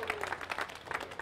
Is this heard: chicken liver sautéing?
no